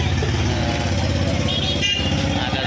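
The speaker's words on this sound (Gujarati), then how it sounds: "ફૂલ ટ્રાફિક છે." Busy city street in full traffic, motorcycles and scooters droning and revving close by, a continuous dense engine rumble with a brief horn-like squeal midway.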